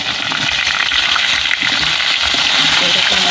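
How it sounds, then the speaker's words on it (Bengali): Cut potatoes go into a pan of pointed gourd frying in oil. A strong, continuous sizzle carries faint stirring clatter close by. "এবার আমি এর মধ্যে কেটে নেওয়া আলুটা দিয়ে দেবো।"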